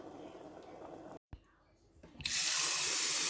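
Tap water runs loudly into a sink to rinse drained boiled macaroni noodles, a steady hissing stream that starts after a brief pause, following quieter kitchen handling.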